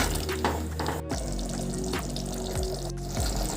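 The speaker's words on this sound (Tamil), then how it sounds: "நம்ம இப்போது சாறு ஊற்றிடலாம். எல்லாமே ஊற்றிட்டு நல்லா மிக்ஸ் பண்ணி விட்டுட்டு" Juice poured into a pan of garlic pickle, a continuous close splashing pour with some gurgling, steady throughout.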